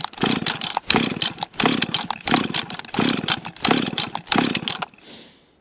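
A Husqvarna 562xp chainsaw with a hot-start problem is pull-started repeatedly: six loud, rhythmic rasping cord pulls about a second apart, with no engine catching, then fading to quiet.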